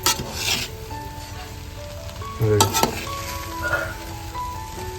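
A spoon works through veg biryani gravy with beetroot in a hot pan, giving a soft sizzle with scraping strokes and a couple of metallic knocks against the pan, close and without speech.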